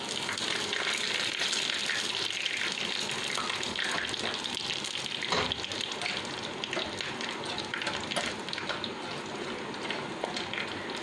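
Curry leaves sizzle in hot oil as a tempering for Kerala parippu lentil curry, giving a steady, loud, continuous hiss and crackle throughout with no talking.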